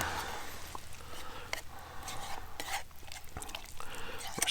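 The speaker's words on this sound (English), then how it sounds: "Stir that up." A spoon stirs food in a pot on a Firebox Freestyle wood-burning camp stove outdoors, giving scattered scrapes and metallic clinks over a low crackling background, with a voice faintly present.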